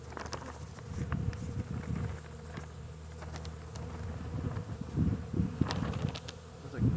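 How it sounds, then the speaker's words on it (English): Honey bees that came through winter strong hum and buzz around an open hive during a March inspection, a steady low drone with individual bees zipping close by. "These are some really nice bees."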